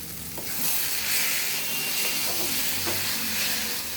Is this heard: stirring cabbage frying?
yes